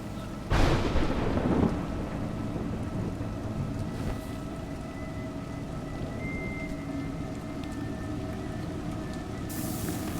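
A loud crack and rumble of thunder early on gives way to steady rainfall pattering throughout, with faint chimes near the end, in the video game A Juggler's Tale.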